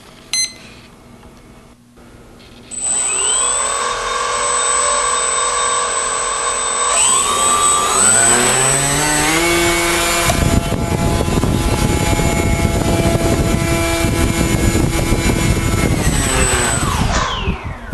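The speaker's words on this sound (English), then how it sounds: "I'm going to test this fixed prop first." A fixed propeller on an RC plane spins up on a thrust test stand, a steady high whine that rises in pitch in steps and then holds loud and constant for several seconds before winding down, with no talking.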